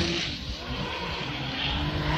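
A Formula Drift Pro2 car at a 2018 Atlanta qualifying run roars steadily as the driver eases off the throttle, with a continuous hiss of skidding tires and a faint tonal whine above.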